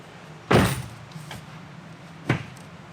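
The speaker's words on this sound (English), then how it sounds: "I'm gonna close the door." A Honda Civic Type-R's car door thuds shut nearby with one solid slam, then a quieter second knock follows about two seconds later.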